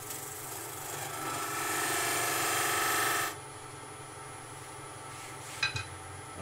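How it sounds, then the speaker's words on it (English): A wood lathe spins while a goblet is turned, with a steady rasping, scraping cut that swells and then stops. A lower motor hum continues afterward, with a couple of small knocks near the end. "Let's stop the lathe."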